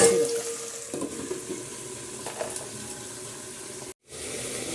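Green chillies with rock salt cook in a covered pan, giving a soft steady sizzle with faint crackles that cuts out briefly near the end before resuming.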